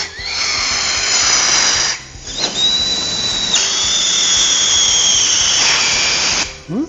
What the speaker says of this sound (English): insert your regulator straight into the balloon with no problem and inflate